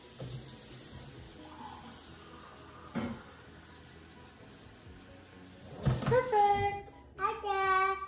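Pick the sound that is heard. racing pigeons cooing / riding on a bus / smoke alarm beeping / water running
water running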